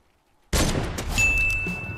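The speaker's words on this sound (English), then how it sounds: "Can a gold heavy sniper one-shot players?" A gold heavy sniper rifle fires in a video game: a sudden, loud blast after half a second of near silence, followed by a long rumbling echo and a thin ringing tone.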